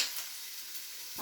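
Ginger fries in about two spoons of oil in a pan, giving a soft, even hiss that stays steady for a brief moment. No voices are heard.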